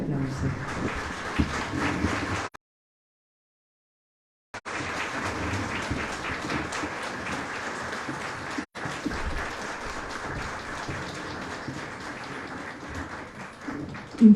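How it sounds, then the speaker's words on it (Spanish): Audience applauding at a blood donor recognition ceremony, steady broadband clapping that stops for about two seconds, then resumes and continues to the end. "Fuerte el aplauso."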